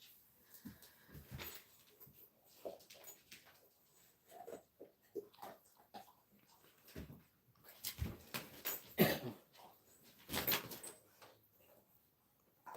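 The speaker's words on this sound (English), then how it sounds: "This dog is so noisy." A dog makes noise indoors: scattered faint whimpers, scuffles and snorts with occasional knocks, irregular and fairly quiet, with no talk.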